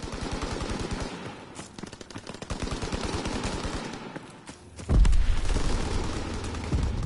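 Rapid automatic gunfire in a WW2 video game, bursts of rattling shots in quick succession, then a heavy boom around the midpoint followed by a sustained rumble and more firing, loud and continuous.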